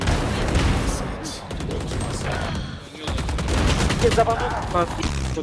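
Gunfire in the Valorant game, dense bursts of rapid shots and cracks crowding the whole stretch, loud and close, with a voice speaking underneath.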